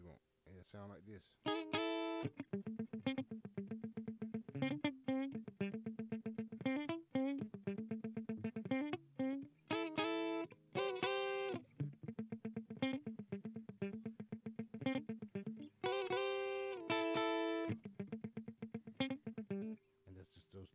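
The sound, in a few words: electric guitar playing two notes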